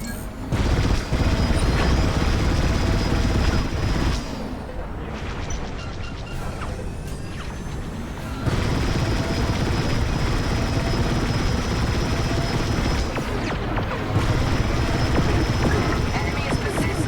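Starfighter space battle in Star Wars Squadrons, loud continuous engine roar with whooshing fly-bys, blasts and crackling impacts, the roar briefly dipping before surging back, with voices heard over the action.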